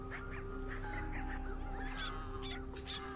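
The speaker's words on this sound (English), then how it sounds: "As the birds start to go after the trapped fish, Lafferty watches and waits." Wild birds honking and calling while hunting trapped fish, several short goose-like cries scattered over a steady outdoor background hum, distant to mid-range, with no voices.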